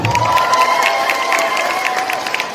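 Audience at a bingo game clapping and cheering together, a steady crowd roar with scattered claps held at a fairly even level for a couple of seconds, with no one speaking over it.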